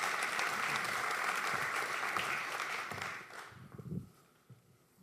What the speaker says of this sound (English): So I would like a warm applause for Horst Streck.